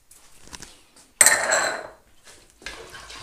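Leftover turkey and mixed herbs being stirred in a pan, with a single burst of metal scraping and clinking of utensil against pan lasting under a second, framed by quieter handling noises before and after.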